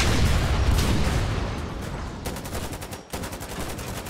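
Gunfire in the war video game Foxhole, a rumbling distant barrage fading down, then a rapid burst of close shots and a sharp crack near the end.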